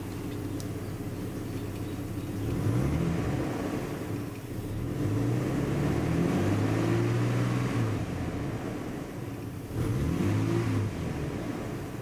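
A generic Australian car with an automatic gearbox and a straight-through exhaust revs while parked, its engine note climbing and falling in several separate surges between steadier idle, fairly close and moderately loud.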